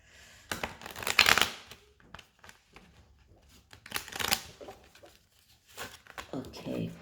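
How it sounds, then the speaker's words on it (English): Large Lantern Oracle cards are shuffled in several bursts of papery riffling and flicking, close and moderately loud, with quieter rustling in between. "these cards are big, a little bit harder to shuffle"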